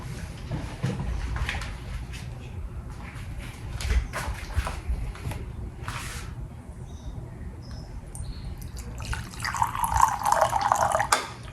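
Lukewarm water running from a kitchen sink tap in uneven splashing bursts, with a few drips, ending in a brighter, stronger flow.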